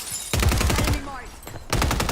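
Rapid bursts of automatic gunfire from hip-fire shooting in a first-person video game, two loud sustained volleys separated by a quieter gap, with faint game sounds between.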